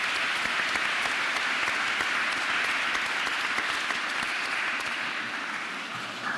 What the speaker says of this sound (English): join me in a round of applause to thank her for her support and service